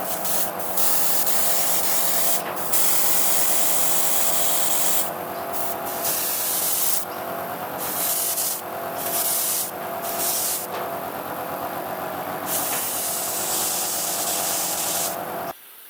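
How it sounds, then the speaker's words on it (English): Light spray paint in satin gold misted onto a handmade swimbait, a steady close hiss running for many seconds with brief pauses and restarts between passes, no voices. "give it all a really light spray with some satin gold"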